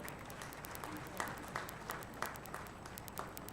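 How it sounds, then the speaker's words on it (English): Faint, distant audience applause at a university founder's day ceremony, a steady wash of clapping with a few sharper individual claps standing out near the front. "Please give a big round of applause."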